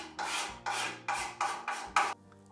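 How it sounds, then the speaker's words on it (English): A scraper pulls dried, foamy glue squeeze-out off a wooden paddle blade in six quick, close rasping strokes, evenly spaced and heard alone. "I'm removing the foamy squeeze out with a scraper"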